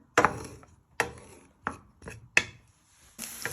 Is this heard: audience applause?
no